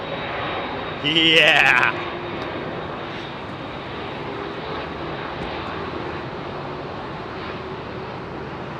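A Cathay Cargo Boeing 747-8F departs London Heathrow Airport with a continuous broad engine roar, heard at a distance and holding steady throughout, with a brief louder whine early on and a short spoken remark.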